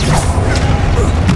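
Confringo fire-blast spell in the Hogwarts Legacy video game: a short, loud burst with a smashing crash and whoosh that fills the whole moment.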